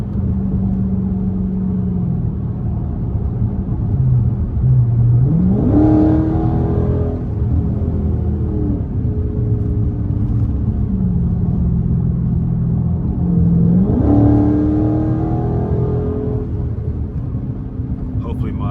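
A straight-piped Dodge Scat Pack is driven at night on a cold, dark road. It drones loudly and steadily, and two rising revs climb into a roaring peak, each one easing back to a low rumble.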